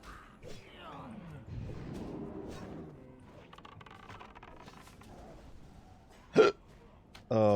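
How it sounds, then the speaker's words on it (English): A loud, sudden hiccup bursts out near the end, followed by a second sharp hiccup, after a stretch of someone talking quietly over faint background game sounds. "Oh God. Hiccup."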